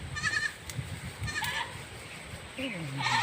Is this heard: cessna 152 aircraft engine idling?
no